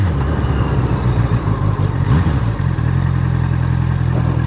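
A Honda CBR650R motorcycle cruises along a road toward forested hills, its engine a steady low drone mixed with rushing wind noise, holding an even pace throughout.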